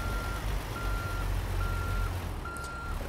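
Peterbilt 389 truck backing up in American Truck Simulator, a steady repeating reversing beep over a low engine rumble, continuous and moderately loud, no talk.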